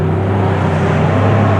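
A Lamborghini Diablo SV pulls away at a New Year's car meet in Japan, its engine a loud, steady, close rumble with no voices over it.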